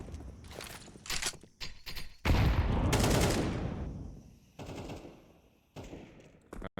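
AK rifle fire in a Counter-Strike match on the Ancient map, with rapid bursts of automatic gunshots, a loud sustained volley in the middle and scattered footsteps, heard close and loud.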